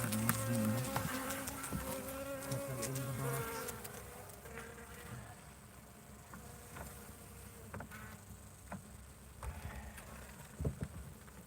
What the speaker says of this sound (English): shake the bees in the box